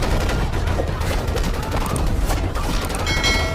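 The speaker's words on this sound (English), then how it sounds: "The sound of gunfire and wailing spread throughout the village." Rapid volleys of movie gunfire crackle and boom continuously, loud and dense, like a battle scene with overlapping shots.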